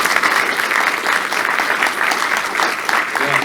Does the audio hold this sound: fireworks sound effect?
no